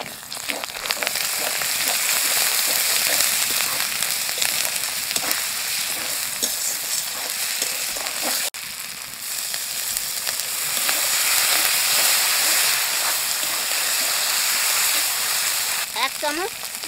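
Spice paste of ground coriander, cumin and chili with turmeric frying steadily in a pan for a spicy stingray curry made with red chilies, a dense continuous sizzle with stirring scrapes throughout, loud and close.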